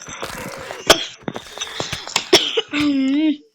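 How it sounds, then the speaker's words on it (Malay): A few short coughs and throat-clearing sounds amid talk and background noise, ending with a drawn-out vocal sound. "Batuk"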